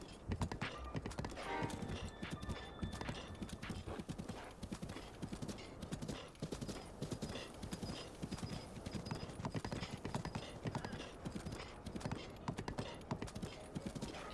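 A horse's hooves clip-clop steadily and continuously in the Breath of the Wild video game, a brisk even rhythm of close hoofbeats on ground, with a brief whinny near the start and some talk at times.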